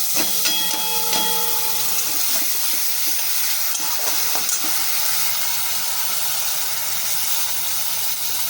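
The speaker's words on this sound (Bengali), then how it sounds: "এইবার এই মশলাটা পেস্টটা এর মধ্যে দিয়ে দিলাম" Spice paste sizzles and hisses in hot oil tempered with cumin and bay leaf, a steady bright frying crackle with occasional stirring clatter near the start.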